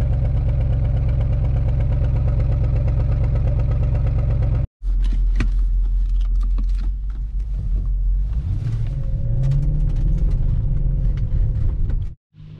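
A BMW X5 E53 with the 4.6 V8 runs on petrol with a steady, deep idle close by; after a brief cut the engine note carries on with rougher knocks and a rising tone.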